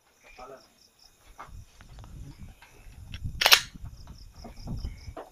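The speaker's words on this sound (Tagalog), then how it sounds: "Ngayon, paputok tayo na magkasunod-sunod, ha?" A GL22 gun fires at night: a sharp report stands out amid insect and cricket chirring, with soft rustling and faint talk around it.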